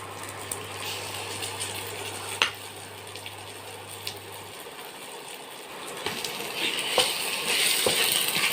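A Kerala-style fish curry is stirred in a pan, a soft frying hiss under occasional scrapes and light clinks of a spoon, with louder stirring and sizzle near the end.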